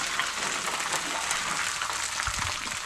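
Duck egg frying in butter in a pan makes a steady, close hissing sizzle throughout, with a brief low clunk near the end.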